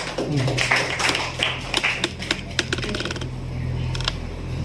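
An audience at a 75th Independence Day show claps in a scattered, uneven burst of sharp hand claps that thins out toward the end.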